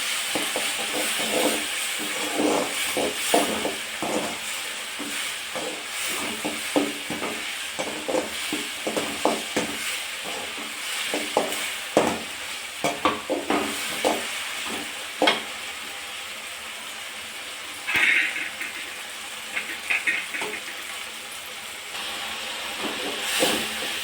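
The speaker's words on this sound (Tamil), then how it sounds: "நல்லா வெங்காயம் தக்காளி பச்சை குடமிளகாய் எல்லாம் வதங்கணும்." Onions, tomatoes and green capsicum sizzling and being stirred in a pan, a steady hiss of frying broken by repeated scraping and clattering strokes close by, with no talking.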